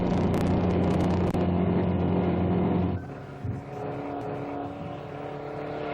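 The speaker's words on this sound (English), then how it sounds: "Bill France watches the Mustang go by" Ford Mustang I prototype with a 1.5-liter engine running around the Daytona Speedway oval at about 120 mph, a loud buzzing engine drone that suddenly drops in pitch and fades as the car passes, then a steadier lower hum.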